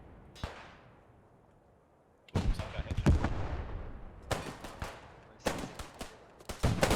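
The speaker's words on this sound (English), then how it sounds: "I hear Kumalo's pistol" Gunfire in the Post Scriptum video game, including pistol shots, heard as a distant crack, then a cluster of sharp close shots and bursts of rapid fire, with no voices.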